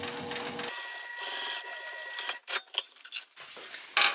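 A sewing machine top stitches a bottom gusset piece on a backpack, short bursts of close mechanical stitching with brief pauses between runs.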